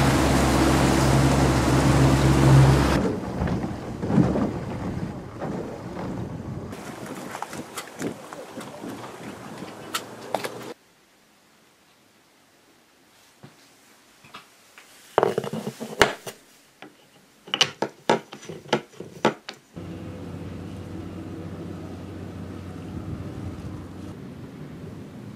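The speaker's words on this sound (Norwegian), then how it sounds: "så får vi ta båten ut." A small boat motors out onto the water on a mink hunting trip, its loud engine roar dominating the opening seconds before cutting off, followed by quieter stretches, scattered clunks and knocks, and a returning low motor hum.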